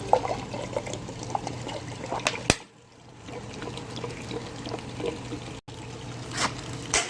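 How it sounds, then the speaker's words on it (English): Water rinses through a DPF-500 diesel particulate filter cleaning machine, a low trickling and splashing flow with faint clicks and a steady hum, briefly dropping out partway through. "Rinse with 2 liters of water."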